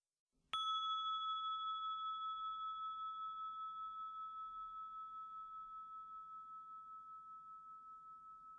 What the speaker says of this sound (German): während der Gong Anfang und Ende der Übung markiert